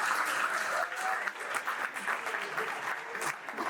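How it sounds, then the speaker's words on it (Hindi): Students in a university hall clap together in steady, continuous applause lasting the whole stretch, dense and fairly close, with a faint murmur of the crowd underneath. "किसी के दुख पर कोई ताली बजाता है"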